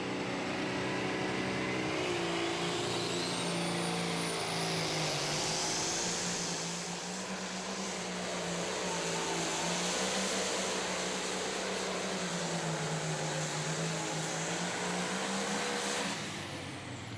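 An International Limited Pro Stock pulling tractor roars through a 2016 tractor pull in Henry, Illinois. The sustained engine drone rises and shifts in pitch for the whole run, distant and even, with no voices.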